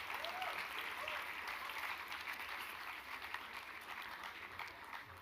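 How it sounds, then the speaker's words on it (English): A convocation audience gives a round of applause, dense continuous clapping heard from a distance, fairly faint and steady, slowly fading. "Guys, give all of them a big round of applause"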